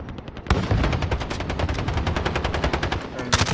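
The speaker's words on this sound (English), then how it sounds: "It's the Finn LMG." Rapid bursts of fire from the Finn LMG in Call of Duty: Modern Warfare ground war, a dense, fast rattle of shots lasting about three seconds, with other gunfire around it.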